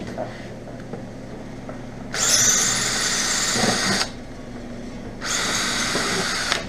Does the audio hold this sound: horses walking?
no